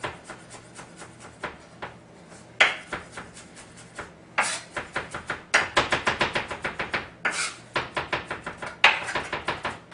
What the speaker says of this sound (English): So I'm just giving it a whack with the knife, and I'm going to chop it up first into pieces.